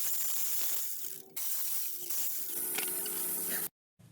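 A hand ratchet works the 10mm bolts on the neutral safety switch's plastic cover of a Honda Accord during transmission removal. Close, quick clicking comes in short runs with brief pauses and stops abruptly near the end.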